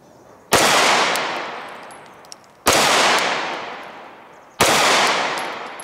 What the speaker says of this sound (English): I'm going to fire 3 rounds